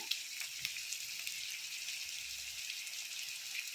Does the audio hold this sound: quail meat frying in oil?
yes